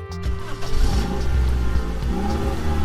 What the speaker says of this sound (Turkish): Bu bir araba.